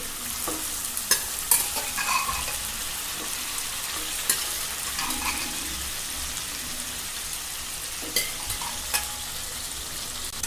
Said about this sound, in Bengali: আমরা আগেই মাংসগুলোকে সিদ্ধ করে রেখেছিলাম, এখন মাংসগুলোকে এর ভিতর দিয়ে দিচ্ছি।